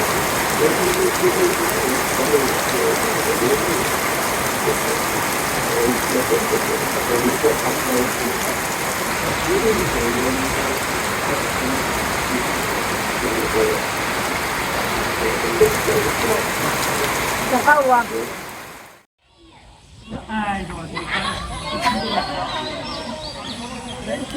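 Heavy rain falls as a loud, steady wash of drops for most of the clip, then cuts off abruptly before resuming more faintly near the end.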